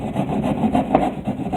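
A saw rasping through a ceiling along a stud to reach a yellowjacket nest, a brief run of steady scraping strokes up close.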